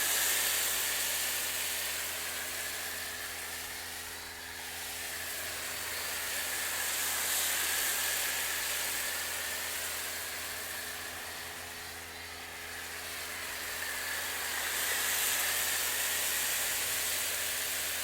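A snow foam cannon sprays thick foam onto a truck, giving a steady, soft hiss that swells and fades in slow waves as the spray sweeps across the panels, with no talking.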